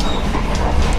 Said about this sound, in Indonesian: untuk bogie saat kereta berjalan, itu berisiknya minta ampun